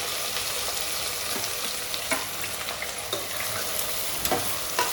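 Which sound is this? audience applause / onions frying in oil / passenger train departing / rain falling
onions frying in oil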